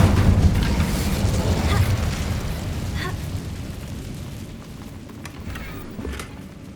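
A fire spell cast at a worn bridge in the Hogwarts Legacy video game, a loud whooshing, rumbling burst that fades slowly over several seconds with a few faint crackles trailing behind.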